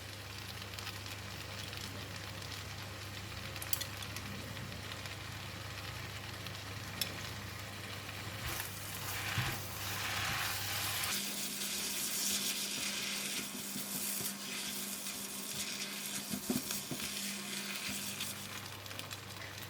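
Kuey teow noodles stir-frying in a hot pan with light soy, oyster and dark soy sauce, a steady close sizzle over a low hum, shifting partway through as the pan is stirred, with no voices.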